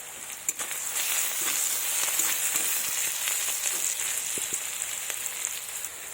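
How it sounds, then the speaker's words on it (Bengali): Onions frying in a pan until reddish-brown, a steady broadband sizzle with occasional soft stirring clicks, close and continuous throughout with no talking. "পেঁয়াজগুলো আমার প্রায় লাল লাল করে ভাজা হয়ে গেছে।"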